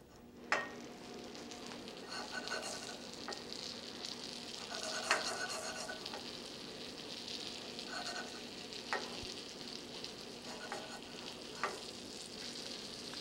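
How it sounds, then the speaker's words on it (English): Foie gras frying in hot browned butter in a pan gives a steady, fairly quiet sizzle, with a few sharp crackles and pops spaced through it and no talking. "The foie gras goes into a little hot browned butter."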